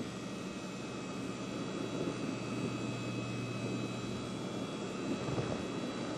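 Space Shuttle Atlantis main engines roaring during ascent about ninety seconds after liftoff from Kennedy Space Center, a steady, distant broadband rumble with a low hum, continuous and unbroken throughout.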